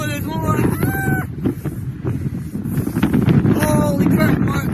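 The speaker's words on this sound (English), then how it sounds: "these winds are just going nuts" Strong wind gusts of at least 70 blowing hard against the microphone, a loud, continuous roar that swells and eases, with a bird's crowing calls breaking through near the start and end.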